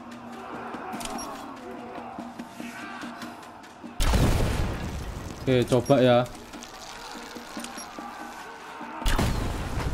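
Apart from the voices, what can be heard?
explosions from video game Rise of the Tomb Raider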